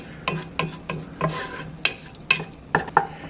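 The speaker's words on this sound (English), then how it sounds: "We're just going to stir it around until it gets really fragrant." Garlic frying in a pot with a splash of stock is stirred with a utensil, making about eight sharp scraping strokes at a loose rhythm over a soft, continuous sizzle, close and clear.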